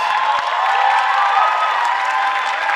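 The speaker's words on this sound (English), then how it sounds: "Let's give them a round of applause" Dense, continuous crowd applause and cheering fill a school auditorium at the Pontiac High School musical showcase, a loud, even wash of clapping and voices with no pauses.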